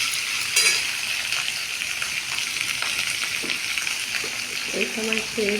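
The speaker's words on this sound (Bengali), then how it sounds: "ভালো করে ভাজতে হবে" Potatoes frying in a pan for a vegetarian potato dish give a steady sizzling hiss, with a few utensil clinks and a short burst of voice near the end.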